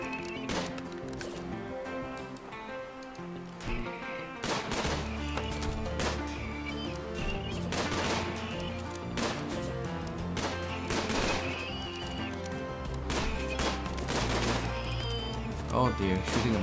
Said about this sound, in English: shooting a machine gun behind me